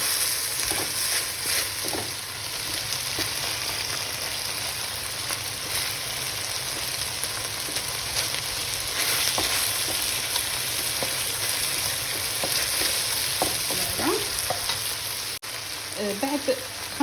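Onion slices fry in a pan with a continuous hissing sizzle, close and even, joined by occasional stirring scrapes and a few clinks near the end.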